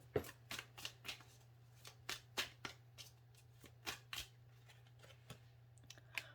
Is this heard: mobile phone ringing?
no